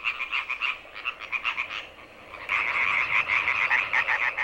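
European tree frogs croaking in rapid, pulsing choruses at a newly dug breeding pond on a river meadow, fairly close and steady, with a brief lull before a louder, denser burst of calls.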